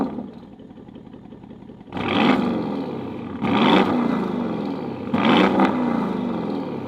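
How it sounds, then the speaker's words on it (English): A 2024 Porsche Cayenne S with a V8 and quad exhaust pipes sounds off in three loud, throaty revving bursts, each rising sharply then falling back to a rumbling idle, heard close and alone. "This is the best sounding exhaust I've heard on an SUV to date."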